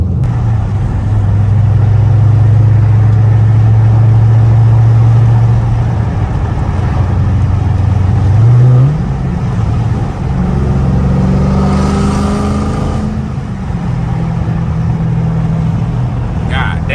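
Dodge Scat Pack V8 with a catless exhaust driving through city streets, a loud steady low engine drone that dips and rises into a rev partway through, with someone talking over it.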